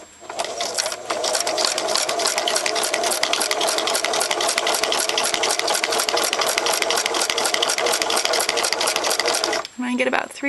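A sewing machine, run by foot pedal, stitches a straight line on a notecard, a steady fast whirring chatter held at even loudness for about nine seconds before stopping near the end.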